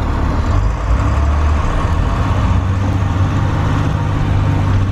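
City bus cruising through Brooklyn streets gives a steady low engine rumble with road noise, close and continuous, with no talk over it.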